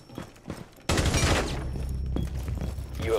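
Rapid gunfire in the video game Rainbow Six Siege, a sudden loud burst of overlapping shots that keeps going for over two seconds after a quieter start, with no talking over it.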